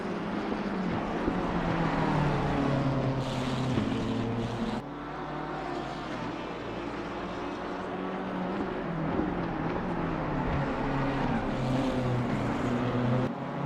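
Race cars in the 4 Hours of Brands Hatch endurance race, their engines droning and whining steadily as they run close together, with one pitch shift partway through, and no talk over them.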